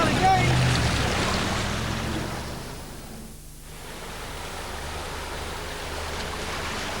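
A 4x4 vehicle eases slowly through deep water, a broad rushing wash of churned water with low engine rumble, loud at first, dipping briefly midway, then settling into a steady surge.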